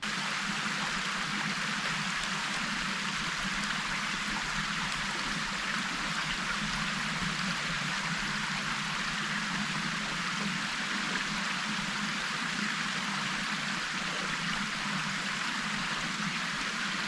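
Steady rushing water, a gill stream and waterfall in the Yorkshire Dales flowing continuously at moderate volume, with no voices and no breaks.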